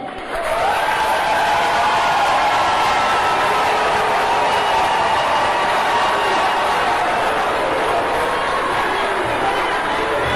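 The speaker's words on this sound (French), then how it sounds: "je vous prie d'applaudir Monsieur le sélectionneur Padou" A large crowd at a Cameroon ballon d'or ceremony applauds the national team coach, a steady, loud wall of clapping with cheers and chatter woven in, sustained without a break from start to finish.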